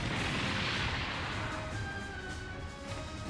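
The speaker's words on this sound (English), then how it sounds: "What was that explosion?" Explosion in the video game Super Robot Wars Y: a faint, distant rumbling blast with a low roiling tail under quiet game music tones.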